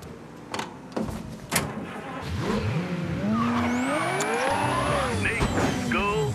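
A car in Mafia III revs and accelerates with rising, sweeping engine tones, tires squealing as it pulls away, preceded by a few sharp clunks like a door and some game voice chatter.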